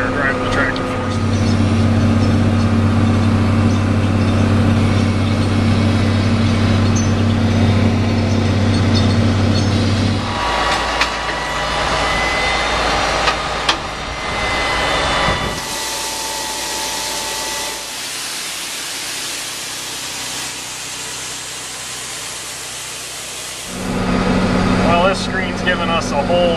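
A tractor engine hums and drones steadily in the cab while corn is planted, a constant low mechanical tone with talk over it and shifting in pitch midway through.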